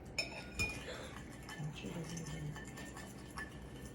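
Borax slime stirred in a bowl, with scattered clinks and scraping taps of a utensil against the bowl's sides under soft background noise.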